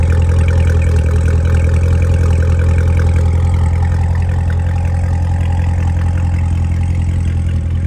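A supercharged 650 hp 2017 Chevrolet Corvette Z06 coupe (1LZ) sits idling with a deep, steady, even rumble, loud and close, running unchanged throughout with no voices.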